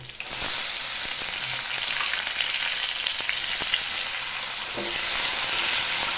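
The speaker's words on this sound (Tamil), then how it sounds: "இது நல்லா கோல்டன் ப்ரௌன் வரைக்கும் நீங்கள் நல்லா வந்து இதை வதக்கணும்" Crushed garlic, onion and curry leaves sizzle and fry steadily in a hot pan for a dried anchovy thokku, with a constant bright hiss and occasional stirring clicks.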